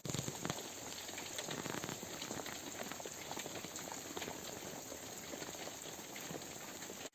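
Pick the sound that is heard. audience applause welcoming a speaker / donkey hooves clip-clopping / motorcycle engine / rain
rain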